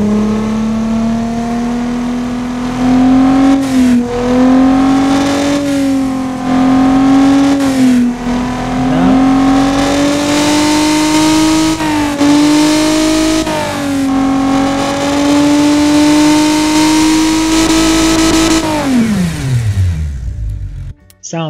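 A 60-degree V6 engine in the Automation game revs hard in a series of rising climbs, each broken by a brief gearshift-like drop, holding a loud steady whine before falling off sharply near the end.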